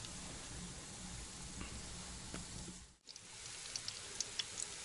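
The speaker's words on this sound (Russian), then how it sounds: "Шкварчит." A vegetable base for borscht sizzles and crackles steadily in a frying pan over a wood stove, with a brief lull and a few ticking pops near the end and no talking.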